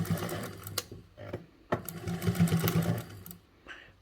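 A domestic sewing machine stitches fabric, including a reverse stitch, in short bursts of quick mechanical whirring and needle clatter, separated by sharp clicks and brief pauses.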